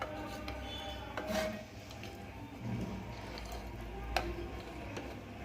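A spoon gently tips and turns Chettinad-style mushroom biryani rice in a metal pot, making faint, soft scraping and rubbing with occasional light clinks against the pot, heard close and quiet.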